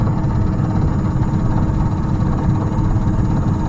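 Steady, loud car engine drone heard from inside the vehicle while driving, a continuous low rumble with road noise and no talking.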